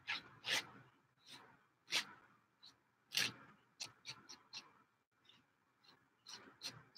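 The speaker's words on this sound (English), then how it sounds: "Sorry for that scratchy noise on the gesso." Brush painting on a gesso-primed surface, giving faint irregular scratchy strokes and scrapes in uneven bursts, close and quiet, with no voices.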